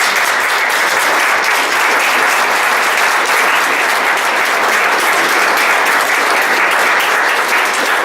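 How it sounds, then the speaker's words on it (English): Dense, sustained applause from an audience at a Middletown Township Committee meeting, steady and loud with no break, a packed room of clapping hands and no voices standing out. "give them all a round of applause"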